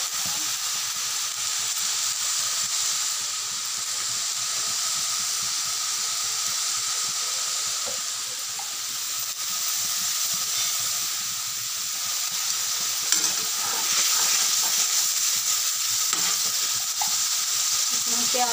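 Onions fry in a pan, giving off a loud, steady hiss and sizzle that swells slightly toward the end, with no speech over it.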